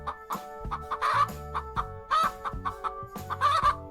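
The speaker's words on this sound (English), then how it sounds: "It's a chicken." A chicken clucks in repeated short bursts, with sharper, louder squawks rising every second or so over a steady rhythmic pattern, close and clear with no other sounds.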